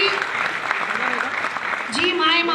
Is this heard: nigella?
no